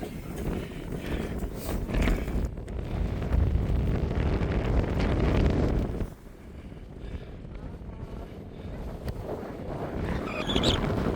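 Strong wind buffets the microphone in a continuous low roar on Conic Hill, Scotland, gusting harder then easing slightly midway, with no talking.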